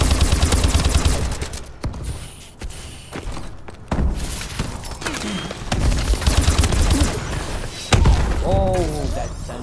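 A sentry gun fires in a Call of Duty: Advanced Warfare team deathmatch on the Havoc map, rapid automatic bursts mixed with other gunfire, thuds and shattering, while a player talks over the noise.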